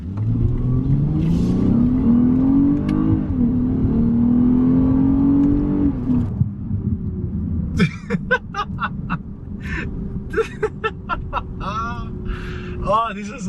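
A V6 Lexus sedan accelerates hard in manual mode, its engine note rising loudly through the revs, then dropping back after a shift, while people talk and exclaim over the settling engine hum.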